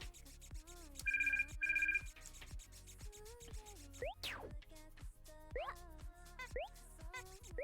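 Phone ringtone in the video game Toree 3D, two short electronic rings near the start amid bouncy game music and effects.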